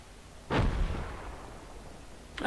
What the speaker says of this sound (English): Mortar should just hit this if they're up.